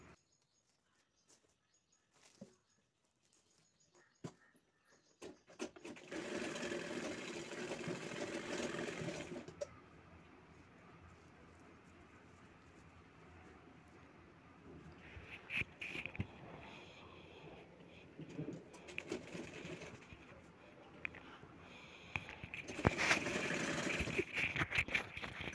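A sewing machine stitches the side seams of a brocade silk blouse, running in a steady whir for a few seconds, then quieter handling and shorter bursts of stitching toward the end.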